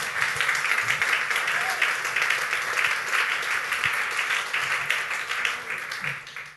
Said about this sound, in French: Est-ce qu'on peut acclamer le Seigneur de gloire?